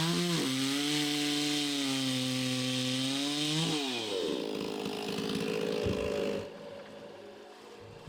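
A chainsaw mills a walnut log into thick slabs, its engine whining in a steady high rev, dipping and rising once as it bites into the wood, then dropping to a rougher, quieter cutting drone that fades toward the end.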